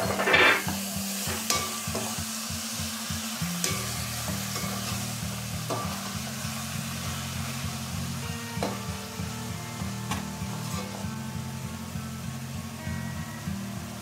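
Tomatoes frying in ginger-garlic paste for a crab curry, with a continuous close sizzle, repeated stirring scrapes and a steady low hum underneath.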